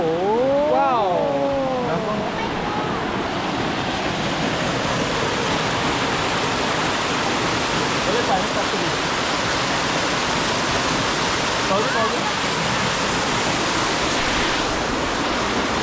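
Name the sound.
flowing water of a waterfall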